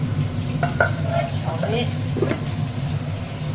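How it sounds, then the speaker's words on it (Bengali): A fish head frying in oil in a pan, a steady close sizzle and crackle lasting the whole moment with a few brief stirring scrapes. "এটা ভাজা হচ্ছে"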